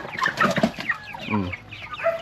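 Chickens cluck in a steady, busy stream of short calls, fairly close, with no talking.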